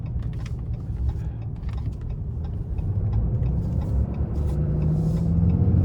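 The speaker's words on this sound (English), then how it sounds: "these are heavy duty pickups, and that's what it feels like I'm driving here" A 2024 RAM 2500 Limited Night Edition heavy-duty pickup with the 6.7 Cummins turbo diesel drives along. From inside the cab its low engine and road rumble holds steady and swells slightly as it goes.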